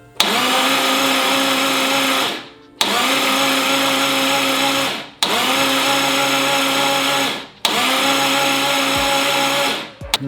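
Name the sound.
EG33 engine cranking to prime oil pressure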